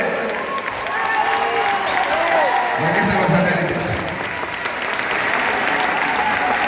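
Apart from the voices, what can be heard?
audience applauding loudly at an orchestra concert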